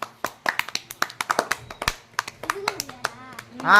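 Village boys clap together in rapid, ragged slaps close by, thinning out as a voice starts talking near the end.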